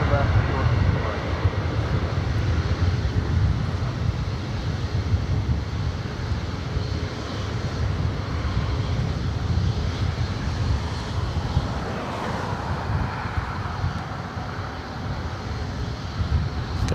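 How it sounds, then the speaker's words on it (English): Boeing 737 jets taxi toward the runway at LAX, giving a steady, broad engine roar with wind buffeting the microphone throughout. "737s heading up to 24 right for takeoff"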